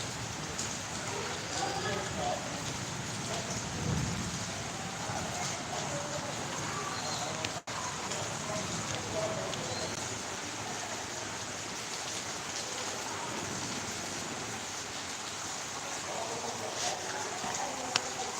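Sudden unseasonal rain pours down steadily, a dense continuous hiss of drops on surfaces lasting throughout, with a voice speaking faintly underneath.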